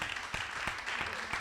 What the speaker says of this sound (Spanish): Así que el aplauso es para mí y para todos ustedes.